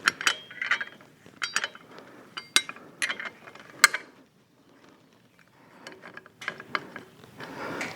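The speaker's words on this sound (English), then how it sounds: "I'm just trying to get the nut off" Close, dry ratchet clicks in short bursts with brief pauses as a big nut is loosened on a Harley Davidson motorcycle, the clicking fading out mid-way before resuming.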